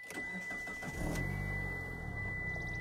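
Keyless push-button start of a Mitsubishi Delica van: a brief starter whir followed by the engine catching around a second in and settling into a steady, close idle with no talk.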